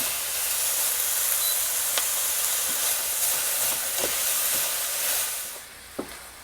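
Onions caramelize slowly in a pan, giving a soft steady hiss and sizzle with occasional small pops and ticks, dropping quieter toward the end.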